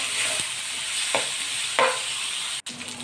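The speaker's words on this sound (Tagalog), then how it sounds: "Igigisa natin maigi yung pork." Pork sautéing in a pan until golden brown, giving a steady close sizzle broken by a few soft stirring scrapes and one short break near the end.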